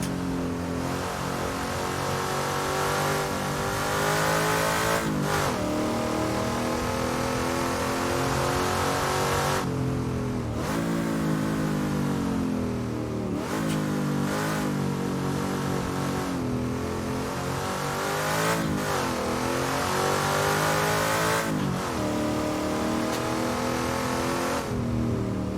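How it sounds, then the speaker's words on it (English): A big, high-horsepower muscle car with an H-pattern gearbox and heel-and-toe shifting races around Bathurst. Its loud, close engine roars steadily, rising and falling through repeated revs and gear changes with brief dips between them. "There's nothing better than driving a big, high horsepower, low mechanical grip, low aero muscle car."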